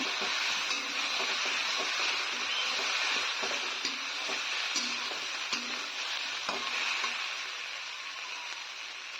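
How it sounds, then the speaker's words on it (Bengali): Cauliflower and potato pieces frying in a pan, with a loud, continuous close sizzle and occasional stirring clicks and scrapes throughout, no talking. "আমি ফুলকপি আর আলুটাকে কিছুক্ষণ ভেজে নিলাম"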